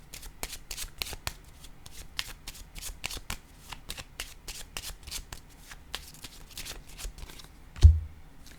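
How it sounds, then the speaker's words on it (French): Playing cards shuffled in quick riffling bursts during a tarot-style reading, crisp and close, followed near the end by a single soft thump as a card is set down; no voice in between. "Je vais déposer une carte."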